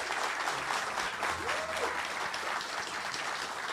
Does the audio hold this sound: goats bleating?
no